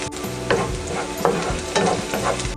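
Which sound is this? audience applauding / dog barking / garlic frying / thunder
garlic frying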